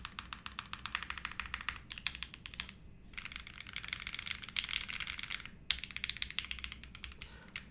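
Fast, crisp clacking from an Enter67 v2 mechanical keyboard being typed on, quiet and close, in dense bursts with a short pause and one sharper keystroke near the end.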